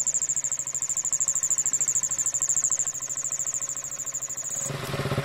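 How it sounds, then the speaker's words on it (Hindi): A KTM Duke 200 motorcycle engine idles with a steady pulsing throb while a high, sustained whistle rides over it, and the whistle cuts out near the end as the engine note rises. "ये हमारी बाइक की विसल साउंड।"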